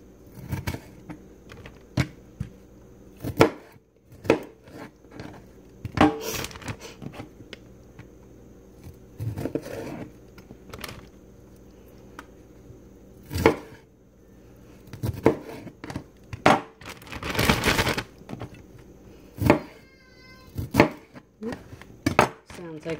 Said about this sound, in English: Cut these pieces up a little smaller